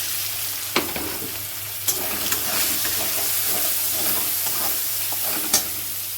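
Garlic sizzles in a pan with mustard paste, sugar, turmeric and salt while being stirred. A continuous hissing fry runs throughout, with a few sharp scraping knocks from the spoon.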